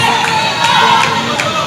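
A crowd at a Grenada versus Saint Vincent and the Grenadines netball match makes a steady, fairly loud murmur of applause and cheering that carries throughout, with a few brighter bursts rising out of it.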